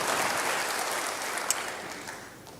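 A church congregation applauds during a sermon, a steady, soft wash of many hands clapping that fades slightly toward the end, with no talk over it.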